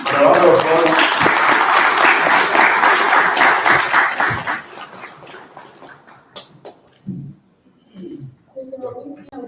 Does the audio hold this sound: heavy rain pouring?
no